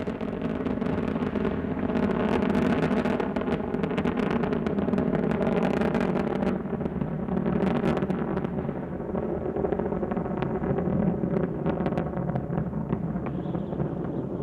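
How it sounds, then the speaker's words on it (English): Space shuttle Endeavour's three main engines roar during launch from Cape Canaveral as a continuous, heavy, rumbling blast that holds steady and dense throughout, with slight wind-buffeted flutter. "Three engines now throttling down as Endeavour passes through the area of maximum dynamic pressure on the vehicle in the lower atmosphere."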